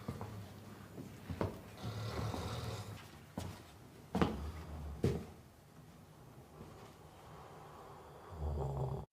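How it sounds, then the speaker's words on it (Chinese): In a film scene set in an abandoned table-tennis hall, a man snores in slow, low rumbling breaths, several drawn-out snores at a quiet, close level with no talk. "就在小峰跪在地上无比绝望的时候，阵阵鼾声吸引了他的注意力。"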